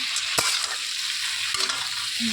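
Ingredients for ghonta shukto are stirred and mixed in a frying pan, a loud continuous hissing sizzle with occasional scraping knocks of the utensil against the pan.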